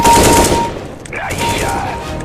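Gunfire from Counter-Strike, a rapid burst of shots filling the opening moments loudly, easing off into quieter game noise as voices briefly speak.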